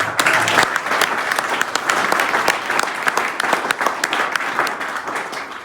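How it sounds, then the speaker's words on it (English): Loud, close applause for the 41st Army Band at an official evening event, a crowd clapping continuously with crisp individual claps standing out throughout. "Let's give the 41st Army Band a big round of applause."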